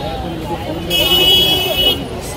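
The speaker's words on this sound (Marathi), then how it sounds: "आता गाड्यांचा तुम्हाला आवाज येईलच" Street traffic on a crowded Crawford Market road in Mumbai rumbles steadily, with a sustained car horn blaring in the middle and background voices mixed in.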